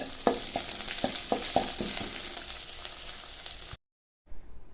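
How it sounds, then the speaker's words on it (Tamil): Green chillies, onion and garlic sautéing in a pan over medium heat: a constant loud sizzle with repeated scraping stirs of a spoon, close by, cutting off abruptly near the end. "கட் பண்ணி வச்சுருக்க பச்சை மிளகாய் வெங்காயம் பூண்டு இது எல்லாம் சேர்த்து நார்மலான நெருப்பில் நல்லா வதக்கிக்கோங்க"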